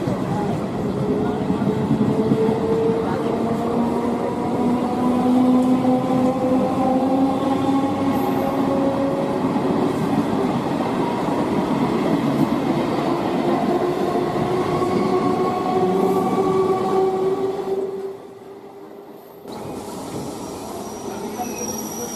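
A passenger train running at night, its steady loud rumble and rolling wheel noise continuous with faint squealing tones, then a sudden brief drop near the end before the roar resumes.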